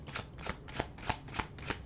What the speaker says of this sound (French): On va prendre une carte de la triade.